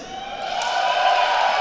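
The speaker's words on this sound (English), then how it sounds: "The crowd is getting loud." A crowd at a Tekken 7 fighting-game tournament swells into steady cheering and whooping, a loud, continuous roar that builds over a second or two.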